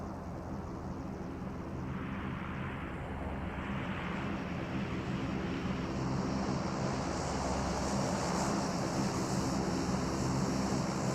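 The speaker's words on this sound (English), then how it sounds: "There we go, plane is inbound." A supply drop plane in PUBG Mobile flies in with a steady, broad droning roar that holds for the whole stretch and swells slightly near the end, with no talk over it.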